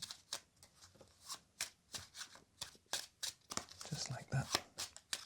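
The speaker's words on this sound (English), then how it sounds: "Give these a little shuffle again." Repeated crisp riffle-and-bridge bursts of a deck of playing cards being shuffled for solitaire games, close up, several quick rounds with brief pauses between them.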